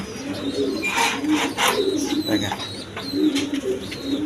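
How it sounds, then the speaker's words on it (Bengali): A pair of American Lahore pigeons coo repeatedly at close range in soft, throaty, overlapping calls, with faint chirps mixed in. "এখানে এক পেয়ার আমেরিকান লার কবুতর আছে"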